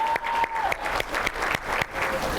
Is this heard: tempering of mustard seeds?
no